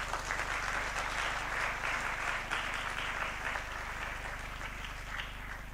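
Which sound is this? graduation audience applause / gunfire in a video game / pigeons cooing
graduation audience applause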